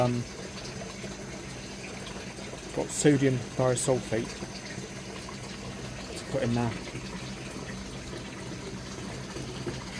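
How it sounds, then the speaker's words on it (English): Tap water runs into a fish tank during a partial water change, making a steady close hiss throughout while someone talks over it in two short bursts. "Filling up now. Filling up with tap water"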